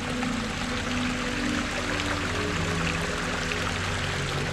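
Cold river water rushes and pours steadily in a shallow stream at a riverside camping spot, a constant broadband wash with no voices and no breaks.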